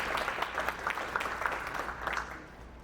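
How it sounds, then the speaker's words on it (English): Audience applause fills a church sanctuary during a town hall on a voting system referendum, a steady round of clapping from many hands that gradually thins and fades out. "let's give them a round of applause"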